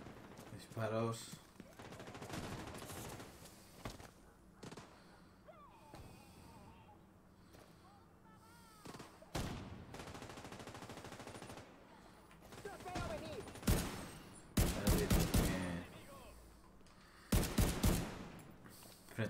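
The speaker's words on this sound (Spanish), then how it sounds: "Disparos." Bursts of rapid gunfire in the video game The Division 2 crackle in sharp clusters, some loud and close, others softer, over a busy background of game sounds.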